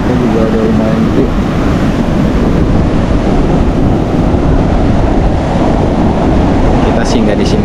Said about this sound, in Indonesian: Ombaknya juga udah lumayan gede.